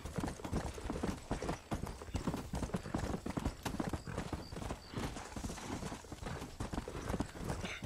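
Horse hooves clip-clop in a steady trotting rhythm in the Red Dead Redemption video game, loud and continuous throughout with no talking.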